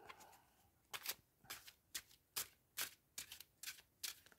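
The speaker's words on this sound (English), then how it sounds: "So let's give these cards a shuffle." A deck of tarot cards is shuffled by hand, giving a series of about nine short, crisp riffling bursts at a quiet, close level.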